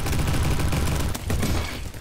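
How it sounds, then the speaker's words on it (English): A flashbang grenade in the Roblox shooter Bad Business goes off amid sustained gunfire, a dense, loud, continuous wash of bursts and blasts lasting about two seconds with no clear pauses. "Oh no, flashbang."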